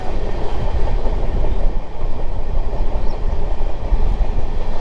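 Chhattisgarh Express train crossing a bridge, a loud, continuous, drum-like rumble with clattering wheels that stays dense and close throughout, with no voices.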